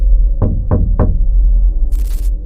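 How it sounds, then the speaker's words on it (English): Three sharp, loud knocks land on an apartment door at an even pace, followed after a pause by a brief hissing rustle in a quiet room. "someone knocked on my door at 11:40 p.m."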